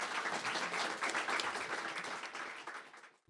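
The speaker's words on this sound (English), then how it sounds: "Please give our panelists a warm round of applause." Audience giving a warm round of applause for writing panelists at a Writers' League of Texas event, dense continuous clapping that holds steady for about three seconds before tapering off.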